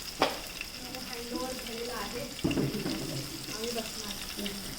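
Pomfret fish frying in hot oil in a home kitchen, a steady close sizzle and crackle with oil spattering, plus a sharper burst of spitting partway through, under occasional faint talk.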